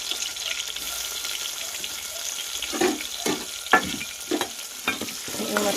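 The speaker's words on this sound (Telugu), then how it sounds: "మొత్తం కూడా బాగా ఫ్రై చేసుకున్నాం." Tomatoes, onions and green chillies fry in a pan over a soft sizzle, with a handful of distinct scraping stirs in quick succession during the second half.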